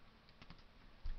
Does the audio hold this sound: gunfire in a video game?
no